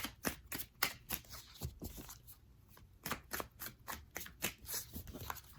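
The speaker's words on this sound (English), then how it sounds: "I for sure want to pull 3 cards." Tarot cards being shuffled and pulled by hand, a quiet close-up run of crisp riffling flicks and slaps in irregular bursts, no voices.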